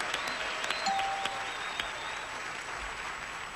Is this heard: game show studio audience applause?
yes